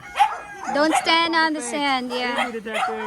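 Several dogs at a rural house in the Philippines bark, yip and whimper in quick bursts close by, mixed in with people talking over them.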